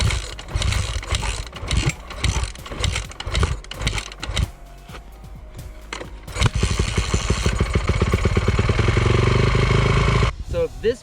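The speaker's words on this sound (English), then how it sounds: "this is how you crank a dirt bike with a Kickstarter" A dirt bike is started with its kickstarter. First come several sharp mechanical kicks and ratcheting clacks, then the engine catches into a loud, rapid two-stroke putter that runs for a few seconds before cutting off.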